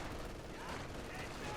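A machine gun opens fire in the Company of Heroes 2 battle, a dense rattling burst of gunfire filling the mix alongside other game sounds.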